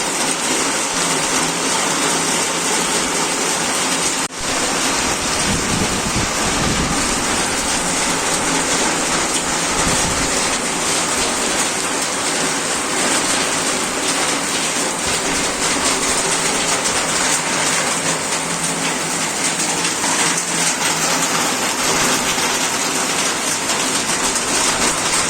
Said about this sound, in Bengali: বৃষ্টি হচ্ছে তোমাদেরকে দেখো।